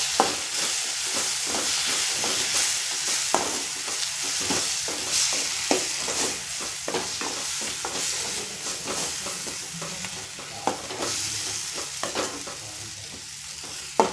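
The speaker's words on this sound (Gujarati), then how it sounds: "ત્યારબાદ ટમેટા સોસ, સરસ રીતે એને મિક્સ કરી દેવાનું છે" Tomato sauce being stirred into masala for spicy pasta in a pan, a continuous close sizzle and hiss with regular scraping strokes of a spoon throughout.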